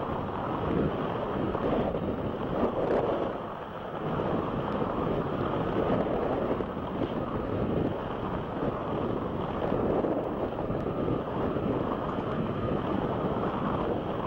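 From on board a Pro Outboard racing powerboat in a 1996 Palm Beach race, a loud steady roar of engine, rushing water and wind buffeting the microphone continues without a break.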